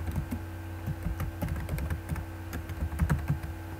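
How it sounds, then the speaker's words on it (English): Computer keyboard typing while entering a chart axis title in Excel 2013, a steady run of quick, light key clicks in a quiet room with no voice. "we want to type in tour countries"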